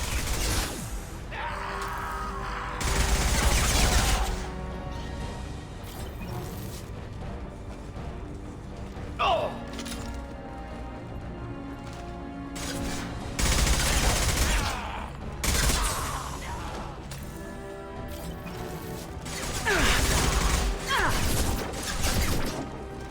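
Firefights in the sci-fi shooter Mass Effect 2: repeated loud volleys of gunfire erupt in several bursts, separated by quieter stretches of game ambience, with occasional crashes and some faint talk beneath.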